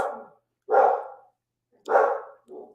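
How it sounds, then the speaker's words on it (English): Dog barking indoors, three loud close barks spaced about a second apart, the last one shorter, with silence between them. "That's my dog, folks."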